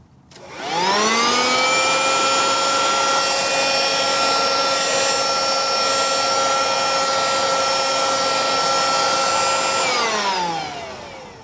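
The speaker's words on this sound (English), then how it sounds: "I was also curious if I could get this little Dirt Devil vacuum going" A small Dirt Devil vacuum cleaner, powered through an inverter, whines up to speed, runs with a loud, steady, close drone for about nine seconds, then spins down, with no talking.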